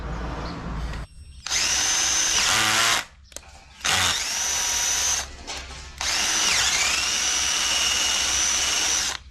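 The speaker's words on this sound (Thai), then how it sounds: "กว่าจะเจาะได้คุณหมดเลยไหม สว่านไม่ได้เรื่องเลย" Electric drill boring into teak wood during a repair, three long loud bursts of high whining motor and cutting noise separated by brief pauses and clicks, close up with no talking.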